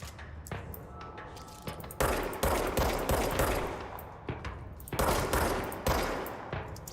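Video game gunfire heard as rapid automatic bursts of shots with a few sharp single cracks and some glassy clinks, loud and close with no talking.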